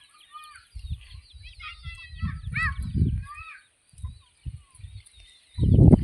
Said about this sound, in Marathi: कोंबड्यांना ना जेव्हा घरात जाण्याची टाईम येते ना तेव्हा जास्त चरायला लागतात.